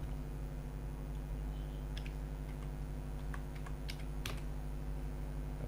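Keys clatter on a computer keyboard as a short word is typed into a browser address bar, a few quick soft clicks in small bursts, close and quiet over a steady low hum.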